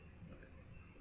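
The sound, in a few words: mouse click sound effect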